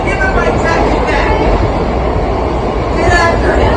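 Subway train running loud and close from inside the car, a dense continuous roar with rattling wheel noise and faint metallic squeal, steady throughout.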